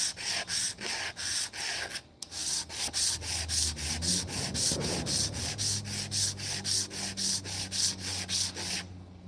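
Parts, likely distals, being sanded over and over, each stroke giving a steady rhythmic raspy rub, close and loud, with a short pause near the start and no talking.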